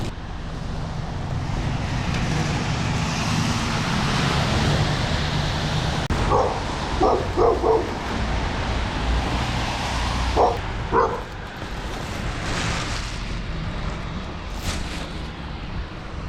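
A dog barks in short bursts a few times over steady outdoor wind and traffic noise, fairly distant and not very loud.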